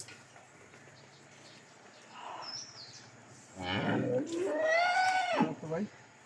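A Holstein Friesian cow gives one long, loud, drawn-out moo near the end, after a stretch of quieter background sound with people talking faintly.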